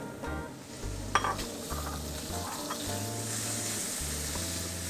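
Pork sizzles loudly in a hot wok with garlic, being stir-fried for jicama with prawns, a steady crackling fry broken by metallic spatula scrapes and clanks against the pan.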